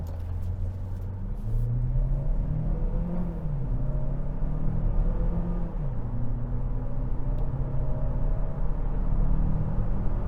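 A 2026 GMC Terrain Denali with all-wheel drive forced on accelerates hard from a standstill to 60 mph, its engine droning steadily and stepping down in pitch at each upshift, heard from inside the cabin.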